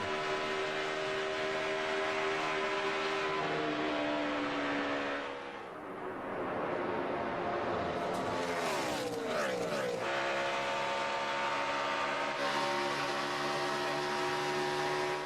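NASCAR stock cars race the final lap at Michigan International Speedway in the 2012 Pure Michigan 400, a continuous loud engine roar with a pack sweeping past midway in a rising and falling whoosh.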